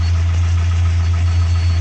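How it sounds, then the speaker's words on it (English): A warmed-up Mazda B2600i G6 engine, running on a B2200 F2 engine computer with its shroud removed, idles with a loud, steady, low hum and an even, continuous throb, close up. "that's how it's idling"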